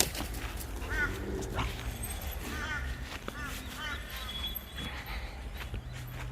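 Dog in a graveyard, eating grass off a grave, giving small whimpers and yips with faint footsteps while people talk nearby.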